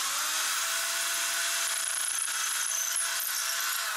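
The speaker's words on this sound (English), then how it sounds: "And then I usually twist the drill a little bit just to give me a little more room." Power drill boring into stone for glue-fixing, a steady continuous high-pitched grinding whine that holds at an even level throughout, close and alone with no voices.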